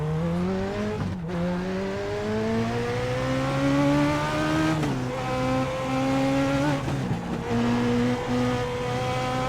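Legends car at USA International Speedway on a qualifying lap, a loud close engine drone climbing in pitch through each gear, with brief drops at shifts and tire scrub throughout.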